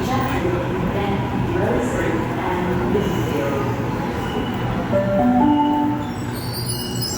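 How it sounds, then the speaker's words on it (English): A train in Sydney rumbles steadily through a station, with thin metallic squeals and tones rising toward the end, and voices faintly in the background. "Here's our train"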